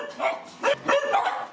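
Abandoned, mistreated dogs bark in several quick, close barks with short gaps, sounding sharp and somewhat strained.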